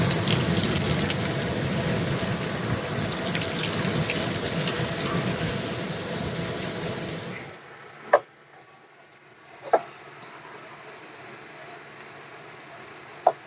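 Water gushes steadily from an outdoor shower on the side of a building for several seconds, then cuts off, leaving a quiet background broken by three sharp clicks or drips.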